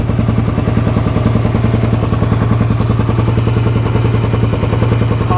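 A Suzuki SV650S motorcycle engine idles steadily, with an even, continuous pulsing rumble that holds a constant level throughout, with no other sounds.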